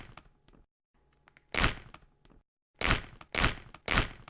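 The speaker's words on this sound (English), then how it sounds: "That is the sound of a Ziploc bag being opened." A Ziploc bag being opened: faint crinkling and small snaps, then several loud bursts of plastic tearing apart, close and without talk.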